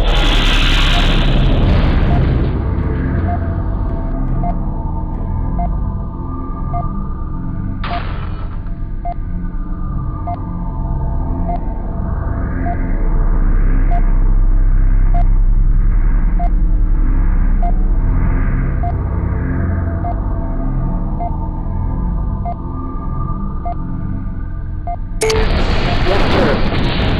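A vehicle explodes in MechCommander with a loud, deep boom. Booms open and close the stretch, framed by a sustained low rumble and a steady repeating sensor ping throughout.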